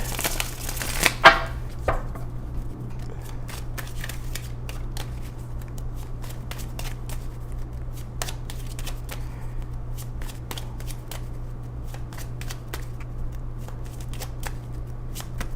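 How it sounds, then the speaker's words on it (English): Tarot cards are shuffled repeatedly in quick, crisp riffles and flicks, close by, with a steady low hum running underneath. "I gotta shuffle your cards some more."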